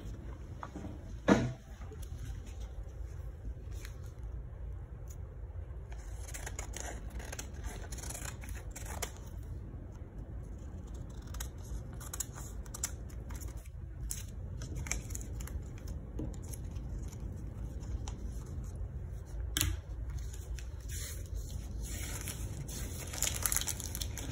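Scissors snip through a sheet of paper as it is cut out, producing faint, irregular crisp clicks and rustles at close range with no talking.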